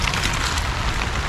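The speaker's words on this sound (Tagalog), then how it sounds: "Malakas din po kasi yung ulan eh." A dense, steady roar of rain pouring down, loud and unbroken with no voices.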